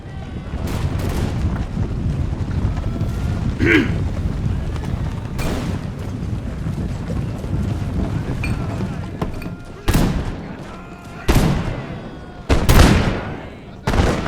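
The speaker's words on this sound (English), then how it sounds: "More Deutsche line infantry. Turn and fire, boys." Line infantry fire musket volleys in the Imperial Splendour mod, heard as a few sharp, booming cracks that stand out late, with one near the start. Battle noise rumbles and voices talk throughout.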